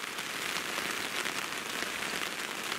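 A heavy rain downpour pours onto a big lake at a carp fishing spot, a dense, even hiss that holds loud and steady throughout with no voices.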